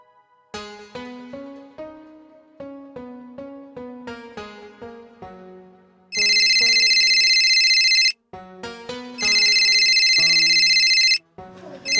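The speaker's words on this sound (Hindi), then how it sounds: "बिटिया का फोन।" A phone ringtone for an incoming call plays alone and loud: a melodic tune of stepped tones, then two long bright sustained ringing bursts, one cut by a brief pause.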